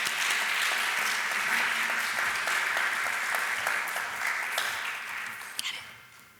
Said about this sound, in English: Let's give a round of applause to our last two speakers